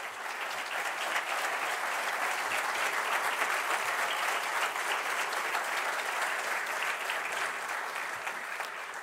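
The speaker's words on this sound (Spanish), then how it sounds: "es Noelia, que también le doy un fuerte aplauso." A crowd at the Premio Jefe BA 2022 awards ceremony in Buenos Aires applauds steadily, with thick, even clapping that holds at a constant level throughout and no break.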